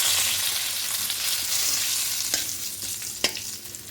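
Asafoetida, halved dried red chillies, bay leaf and cumin crackle in hot oil, a soft continuous sizzle with a few sharp scraping stirs toward the end.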